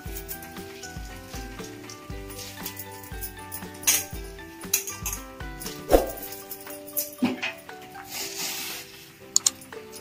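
Washed moong dal being tipped into a cooking pot with amaranth leaves, faint scattered clinks and taps of utensil on metal with a soft background hiss, nearby and quiet.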